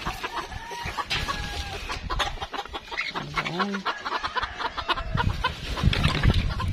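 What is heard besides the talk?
bantam chickens clucking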